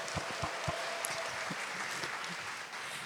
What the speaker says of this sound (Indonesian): Berikan tepuk tangan untuk Tuhan kita.